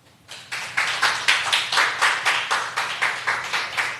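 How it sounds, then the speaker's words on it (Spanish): A congregation claps in unison for Christ, loud, evenly spaced rhythmic claps at roughly four per second that start after a brief quiet moment and continue steadily. "Dale un aplauso a Cristo."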